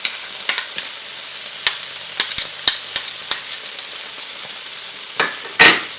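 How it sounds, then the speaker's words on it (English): Steak sautéing in a pan with minced garlic: a soft, steady sizzle under a series of sharp utensil scrapes and taps against the pan, ending in a louder clatter, close and without voices. "This has been sauteing for 6 minutes"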